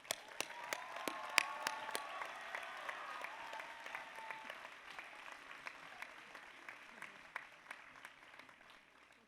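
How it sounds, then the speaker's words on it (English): Commencement audience applauding Dr. Sanjay Gupta as Teacher of the Year, a sustained round of clapping with sharp individual claps standing out near the front, gradually thinning as it goes on. "So please join me in applauding Dr."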